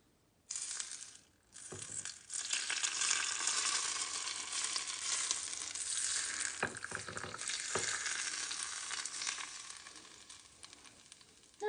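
Hot oil poured over a heap of chopped scallions for Chinese scallion oil noodles bursts into a loud, steady, close sizzle that holds for about eleven seconds, with a few brief crackling spikes along the way.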